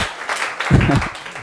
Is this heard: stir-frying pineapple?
no